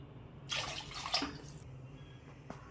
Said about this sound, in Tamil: மொத்தம் நான் 9 டம்ளர் அளவுக்கு தண்ணி ஊற்றிட்டேன்.